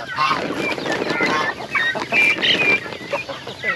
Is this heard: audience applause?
no